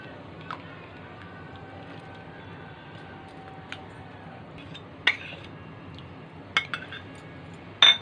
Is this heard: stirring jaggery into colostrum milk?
yes